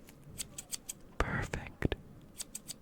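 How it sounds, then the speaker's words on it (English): Scissors snip close by in a quiet room, a few crisp, separate cuts landing amid a run of soft whispering and light clicking taps. "I'm gonna have you tell me which side you hear me snipping on"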